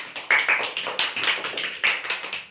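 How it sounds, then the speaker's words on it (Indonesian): Classroom applause for a student group, a brief burst of irregular hand claps from a small group, fairly close and crisp, with no talking over it. "Tepuk tangan untuk kelompok 1."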